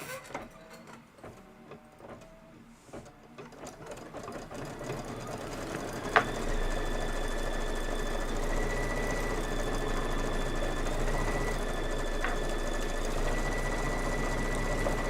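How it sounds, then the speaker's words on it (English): An embroidery machine stitches felt leaves with outline and detail runs, starting with a quieter rhythmic clatter and then settling into a louder, steady mechanical whir with faint tonal whines, alone and close. "we place the leaf felt and we're stitching the leaf final, outline, and detail"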